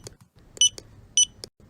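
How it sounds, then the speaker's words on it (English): Library checkout computer in a Peppa Pig cartoon gives short electronic beeps, three bright tones spaced about half a second apart, amid soft clatter of library books sliding across the counter. "the computer beeps as the books slide across the counter"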